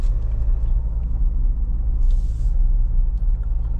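A Mahindra Scorpio N with a rugged 2200 cc engine drives along a road, a deep continuous rumble of engine and tyre noise heard from inside, with a brief hissing burst partway through.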